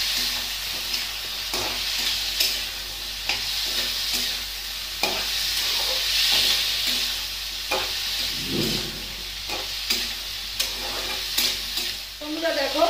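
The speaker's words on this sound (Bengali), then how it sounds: "চলো নেড়ে নাও।" Spiced curry with turmeric, chilli powder and cumin powder being stirred in a frying pan: a spoon scrapes in repeated rhythmic strokes over a steady close sizzle, with no talking.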